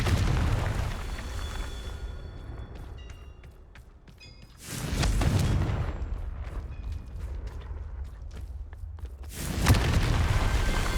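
Repeated loud explosions from the Confringo blasting spell in the Hogwarts Legacy video game, with a big blast near the start, another around midway and a third near the end, each rumbling out between quieter stretches.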